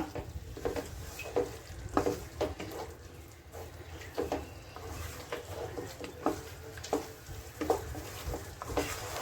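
A spoon stirs kasuri methi prawn fry in a pan with rhythmic scraping strokes over a soft, steady frying sizzle, close and moderately quiet.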